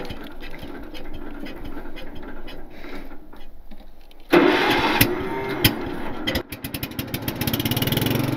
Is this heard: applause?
no